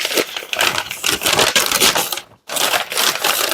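Glass cups being unwrapped from their packaging, close crinkling and rustling of wrapping material in dense bursts with a brief pause near the end.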